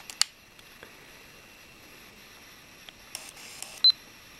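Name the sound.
camera shutter click taking a photo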